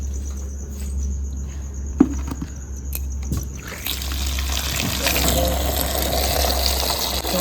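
Water running into a container to fill it for cows in a rural outdoor setting, a steady trickle that grows fuller and louder partway through, with crickets and insects droning throughout.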